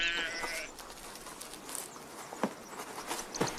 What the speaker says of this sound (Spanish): Los pastizales entre las encinas proveen de alimento a las ovejas.